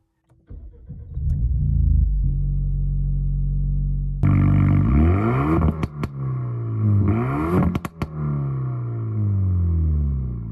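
A Renault Mégane RS Trophy with its 1.8 TCe engine starts up with the sport exhaust flap open, cranking into a loud idle that then jumps into a series of sharp revs rising and falling, close up.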